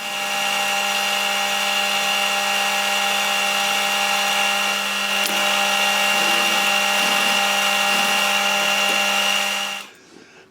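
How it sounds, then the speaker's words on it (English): A drill runs continuously while countersinking two holes in a metal part, giving a steady, loud, whining hum with bright tonal lines that stops abruptly near the end. "now I'll just countersink those two holes"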